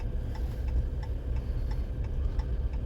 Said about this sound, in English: I apologize for the flasher noise going there